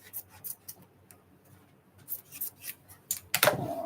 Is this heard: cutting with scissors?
yes